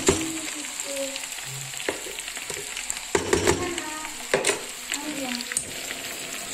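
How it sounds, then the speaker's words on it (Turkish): Rice sizzles and crackles in hot oil in a pot with fried vermicelli, with occasional scrapes and clinks of stirring; a voice briefly murmurs in the background. "Şöyle pirincimizi biraz yağda şöyle güzel kızartalım"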